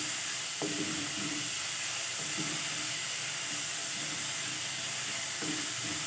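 Chopped tomatoes sautéing in oil make a steady hiss of sizzling, with a few faint scrapes and knocks of stirring now and then, close and constant throughout with no one speaking.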